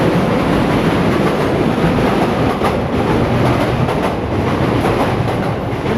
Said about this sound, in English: wait for the trains to go past first